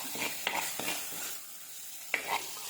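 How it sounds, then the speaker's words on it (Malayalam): Oil heating in a pan for a Kerala fish curry gives a soft, steady sizzle, with a few sharp clinks and scrapes of stirring scattered through it and no talk. "അപ്പോൾ അങ്ങനെ നമ്മുടെ എണ്ണയൊക്കെ ഇതിൻ്റെ തിളഞ്ഞ് വരുന്നുണ്ട്"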